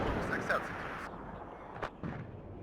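A rocket strikes its target in the war game WARNO, a quiet distant thud with a short rumble in a sparse battlefield soundscape, while someone speaks over it.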